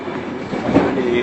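An empty passenger train runs along the rails in Iraq on a Karbala trip, a steady rumbling roll with a faint wheel squeal, as someone briefly speaks over it.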